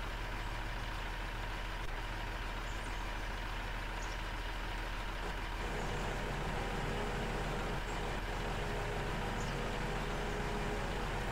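An excavator engine driving in Construction Machines Simulator 2016, a constant low diesel drone and rumble that holds steady and loud for the whole stretch, with no talk.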